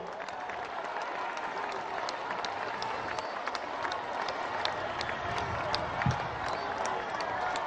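A large crowd at a Venezuelan presidential event at Miraflores applauds the state oil company and its workers, sustained dense clapping with a few scattered shouts, steady and loud for the full stretch.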